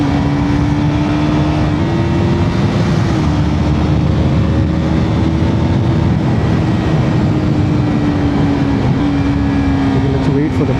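A KTM RC 200 motorcycle cruises along a tree-lined road, its engine holding a steady loud drone with slight pitch shifts and constant wind rush throughout.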